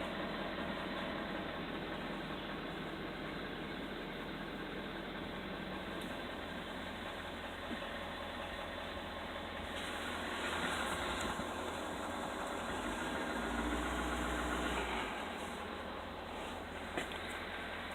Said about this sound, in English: I guess you can count this as a cold start because the temperature is still